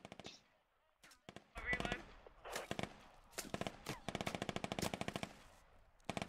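An M249 SAW light machine gun fires in a squad-based military shooter, rattling out rapid bursts of close automatic fire mixed with distant gunshots and faint voices.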